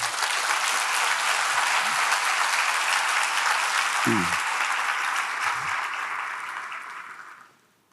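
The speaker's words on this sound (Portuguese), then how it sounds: "Dê um aplauso ao Senhor." Church congregation applauding to the Lord during a mission talk, a long, dense wash of clapping from many people that holds steady and then fades out at the end, with a brief voice or two underneath.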